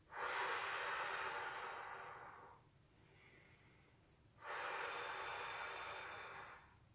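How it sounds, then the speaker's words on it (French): Two long, deep exhalations during a balance exercise, each a loud breathy rush lasting about two seconds, separated by a quieter pause, heard close up with no talking. "Allez, soufflez bien."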